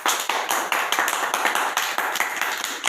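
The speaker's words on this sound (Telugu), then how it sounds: "okay claps" Children clap their hands together in a quick, regular rhythm during an anganwadi centre activity, loud and close with a sharp slap on each beat.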